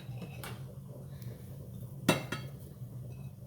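Bowl set down in a home kitchen while fresh spinach is added for a lasagna: a sharp ceramic clink, a couple of lighter taps and faint rustling over a quiet background hum.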